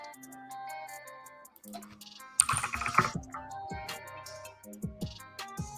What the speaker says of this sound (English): All this typing's for you, Bradley.